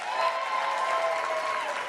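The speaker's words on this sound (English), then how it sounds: "please keep your applause going if you traveled from the East Coast" Guests at a Boston wedding reception in the Mount Washington Hotel keep up steady, dense applause, with a sustained tone ringing faintly over the clapping.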